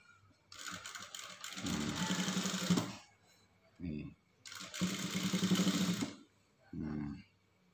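A sewing machine stitches a rever collar on a garment in two long whirring runs, close and steady, with short pauses and brief speech in between.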